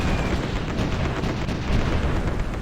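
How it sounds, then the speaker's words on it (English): Artillery fire in the strategy video game Supreme Ruler Ultimate booms as a dense, continuous barrage of loud, overlapping blasts with no pauses. "Oh, we destroyed it by artillery."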